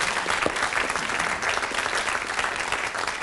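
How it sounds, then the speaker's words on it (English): Studio audience at a 1983 British TV quiz show applauds steadily, a dense, even wash of clapping with no talk over it. "Let's give them another round of applause for that"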